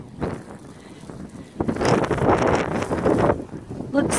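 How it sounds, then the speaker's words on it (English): Wind gusts through trees during a snow storm walk in Elgin, Nebraska, a rushing, rising roar that swells midway and holds steady, loud and close with microphone buffeting, and a person speaks over it. "You can hear it, wind is blowing through the trees."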